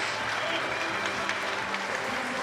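Steady applause from the crowd at a shot put competition, a dense, even clatter of clapping that holds at a constant level throughout with no talk over it.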